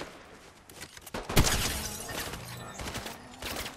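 Gunfire from the video game Fortnite crackles in a dense, sharp volley with a loud impact near the middle, followed by continued scattered shots and clatter.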